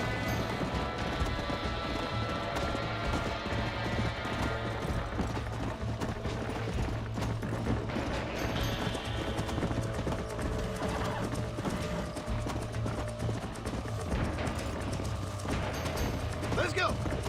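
A horse gallops in the Red Dead Redemption video game, with rapid rhythmic hoofbeats and occasional neighs running continuously under a game soundtrack, while people talk over it.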